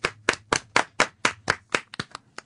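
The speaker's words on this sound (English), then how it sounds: "Another clapping session." Hands clap in a radio studio, about a dozen sharp, close claps at a brisk steady pace, with a quick uneven flurry near the end and a low hum underneath.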